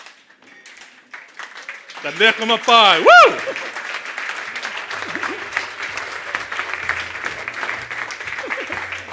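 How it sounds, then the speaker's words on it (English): Audience at a Startup Grind Cape Town event rising to their feet for a big round of applause, dense sustained clapping after a loud whoop and a voice announcing a name, with cheers mixed in. "can you please give a massive round of applause?"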